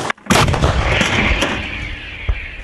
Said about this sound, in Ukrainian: Армата постріл!